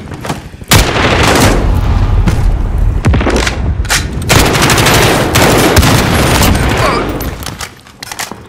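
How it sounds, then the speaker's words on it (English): Sustained heavy gunfire in Call of Duty Modern Warfare, an enemy sentry gun firing in rapid loud bursts amid booming explosions, continuous and dense for most of the stretch before tapering off near the end. "Enemy sentry gun active."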